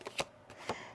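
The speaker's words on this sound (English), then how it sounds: "One more shuffle." Tarot cards are shuffled by hand in a few quick riffling bursts, soft and close, with short pauses between them and no talk.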